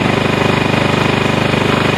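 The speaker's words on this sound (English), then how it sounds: "You can hear the engine strain." Ryobi inverter generator engine labors under an 800 watt load, giving a loud, close, rapid pulsing drone with a steady mechanical throb and no talking.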